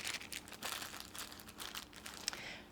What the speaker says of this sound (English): I'm going to very quickly put this part back in the plastic bag so that it doesn't get dried out too soon.